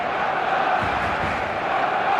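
Stadium crowd roaring steadily in the eFootball Mobile video game before kickoff, a dense continuous wall of massed voices at constant loudness with no distinct individual calls.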